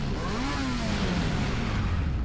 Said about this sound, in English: I hear the sound of an engine revving and spin around to see the bike making a beeline for the tower